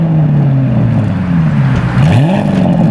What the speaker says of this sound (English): we might as well listen to the exhaust note, which sounds a little different from a traditional station wagon.